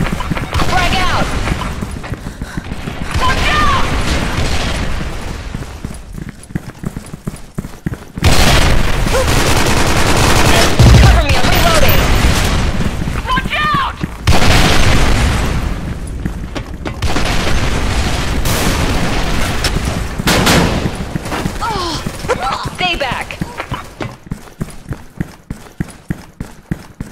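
Grenade explosions and gunfire in the shooter game Special Force 2 during a clan-war match, with repeated loud blasts and bursts of shots and shouting voices over them.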